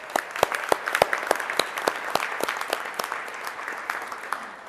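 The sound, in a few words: audience applause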